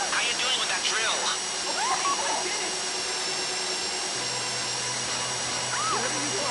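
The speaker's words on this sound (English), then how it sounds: "How you doing with that drill?" A heist drill in Grand Theft Auto V whirs as a steady, loud mechanical drone with a rising whine near the end, while game characters talk over it.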